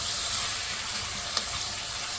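Chicken with a spoonful of garlic-ginger paste frying for a pickle-spiced chicken curry, making a soft continuous sizzle close by with one small clink.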